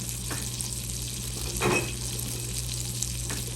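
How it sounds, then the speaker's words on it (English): Butter melts in a pan with a soft, steady sizzle and frying hiss, broken by a couple of brief scraping stirs, all fairly quiet and close. "Gonna melt that butter down. Get it all melted down."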